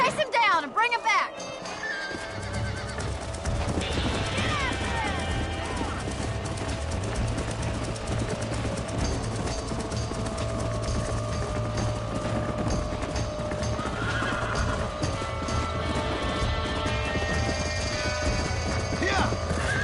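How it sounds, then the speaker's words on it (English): A stallion whinnies and gallops in the video game Red Dead Redemption, with a loud neigh near the start and steady hoof clip-clop running throughout, under game music and other ambient sounds. "Hey, the stallion's getting away! Chase him down and bring him back."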